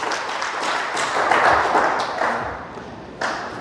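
Congregation applauding in church, a full sustained burst of many hands clapping that swells in the middle and fades, with a sharp thud near the end.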